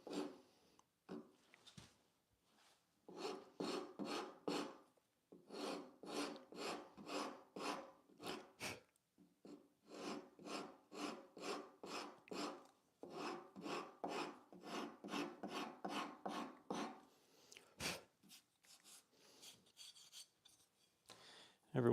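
A hand rasp shapes wooden furniture legs in steady back-and-forth strokes, each pass a gritty scrape, running in long rhythmic bursts with a few brief pauses and a sharp knock near the end.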